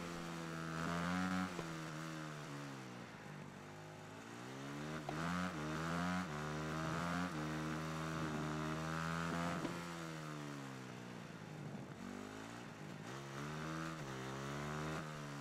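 A Moto3 racing motorcycle engine in the Ride 3 video game screams through repeated rising and falling revs as it shifts gears, a continuous high-pitched buzzing whine with no talk over it.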